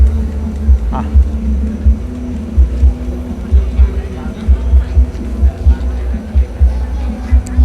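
A newly installed V8 engine idles with a deep, lumpy throb that pulses steadily and loudly up close, while someone talks over it.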